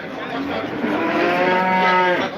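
A single long, loud cow moo at a livestock market, close by, rising and holding steady for a couple of seconds.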